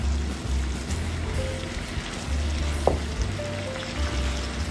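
Fried eggplant pieces go into a pan of beef binagoongan, a steady close sizzle and frying hiss running throughout with a brief clack near the middle.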